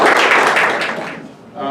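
Audience applause for a speaker at a history talk on the American West, a burst of clapping that starts loud and fades away within a second or so, followed by a voice beginning to speak.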